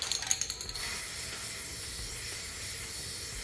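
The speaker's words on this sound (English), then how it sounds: "I'm going to put my nozzle on here and spray it." A steady, loud hiss of spray paint from a nozzle onto a wood side table, starting with a few short bursts and then holding as one continuous spray.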